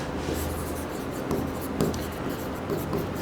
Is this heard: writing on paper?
yes